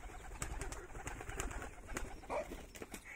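Pigeons kept on a farm coo softly from nearby, low murmuring calls over a background of scattered clicks and rustling, with no talking.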